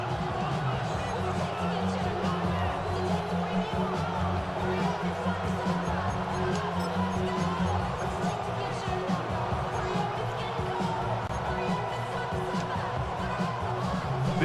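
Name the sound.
football stadium crowd noise before third and goal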